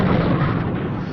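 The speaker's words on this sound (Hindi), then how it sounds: "और हुआ एक बहुत बड़ा धमाका।" A huge explosion sound effect in a Hindi-dubbed anime film, a loud sustained rumbling blast that fills the moment without pause, with no speech over it.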